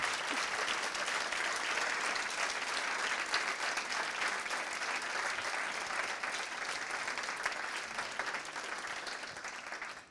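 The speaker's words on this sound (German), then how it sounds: "Und ja, gerne Applaus, finde ich auch" Sustained applause from an audience at the end of a talk on social sculpting, dense and steady for about ten seconds and slowly tapering off, with no voices over it.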